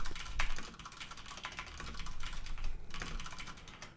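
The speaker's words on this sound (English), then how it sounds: "So I'm just going to mash on the keyboard a little bit" Rapid, irregular keystrokes hammer a computer keyboard for about four seconds in a quick flurry of clicks and clacks, heard close up with no talking.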